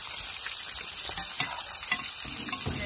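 Sierra fish chops fry in oil on a disc pan with a steady, loud, close sizzle and crackle that carries on without a break.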